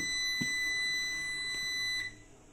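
Hybrid off-grid inverter in UPS mode beeping after being unplugged from mains: a short electronic beep tone repeats a few times under steady high-pitched whine, then the tone cuts off near the end.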